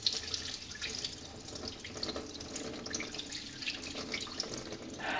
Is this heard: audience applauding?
no